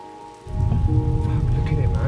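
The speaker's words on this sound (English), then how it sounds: "sitting in bed listening to the rain" Heavy rain pours outside, hard enough to send a stream running down the road. A loud, dense, steady wash starts suddenly after a brief quiet moment and continues without letup.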